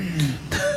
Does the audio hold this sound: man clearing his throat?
yes